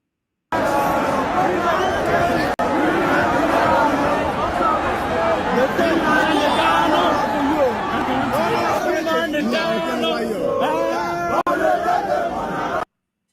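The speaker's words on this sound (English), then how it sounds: "This crowd, this mammoth crowd, look at it here." Huge street protest crowd for Mazi Nnamdi Kanu in Nigeria, a dense continuous babble of many voices chattering and calling out, loud and close throughout with occasional shouts rising above.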